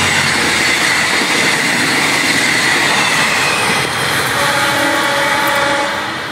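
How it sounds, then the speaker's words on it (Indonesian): A feeder train running to Padalarang station, linked to the Jakarta-Bandung high-speed rail line, rumbles past loud and close with a continuous rolling roar, clattering wheels and a faint squeal, fading slightly at the end. "Kereta feeder untuk kereta cepat."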